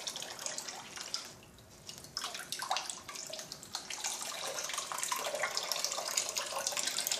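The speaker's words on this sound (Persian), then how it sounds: "من آب اینو خالی میکنم، اینجا ببینید" Water is poured out of an orchid pot in a steady, splashing trickle with gurgles and drips, close by and moderately loud. No voices.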